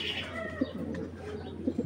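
An army pigeon pair coos softly in a loft, a few low murmuring calls rising over steady background hum, faint and close.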